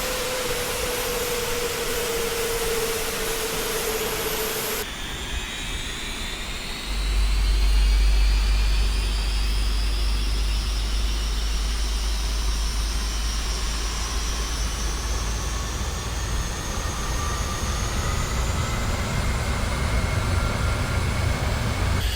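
Avro Vulcan jet engines spin up together in a flight simulator, a loud, steady roar with rising whine tones that swell and thicken as all engines run up, continuing without voices.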